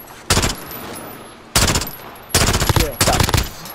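Bursts of automatic gunfire from Call of Duty: Modern Warfare, with four loud rapid-fire volleys separated by short pauses over a low background hum.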